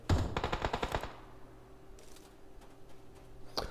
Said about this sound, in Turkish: Arkada bir silah sesi duydum sanki şurada.